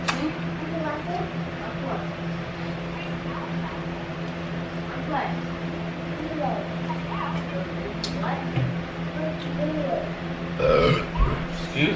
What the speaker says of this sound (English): Soda, like I said, make me burp.